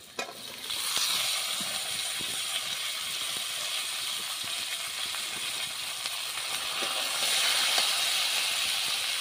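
Washed vegetables, including bottle gourd stems and greens, drop into browned onions in a hot pan. A hissing sizzle starts abruptly, holds steady and grows a little louder toward the end, with light scraping underneath and no talk.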